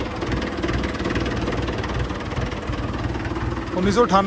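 A 1998 Mahindra 475 tractor engine idles with a steady, close, low throbbing rumble, and voices are heard over it.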